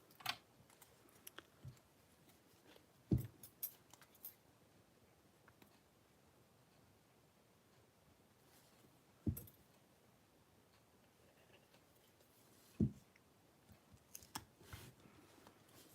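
Scissors snipping the edge off a paper pumpkin craft piece, a few sharp isolated cuts spaced several seconds apart with faint handling rustle between, no talking.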